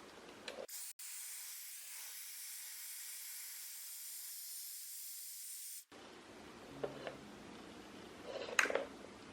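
A Dyson Airwrap hair styler blows on its strongest setting, a steady, loud whooshing hiss held for about five seconds before cutting off, followed by quieter handling rustle and a faint voice near the end.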